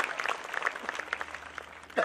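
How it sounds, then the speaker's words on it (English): A high school graduation audience claps for the assistants on stage, a brief burst of many hands clapping together, moderately loud and continuous. "Let's give the assistants a round of applause"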